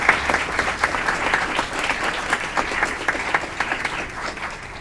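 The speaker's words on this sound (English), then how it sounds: "big round of applause, Kiwan Marshall" An audience at a city council meeting applauds, a steady burst of clapping from many hands that holds for several seconds, with faint voices mixed in.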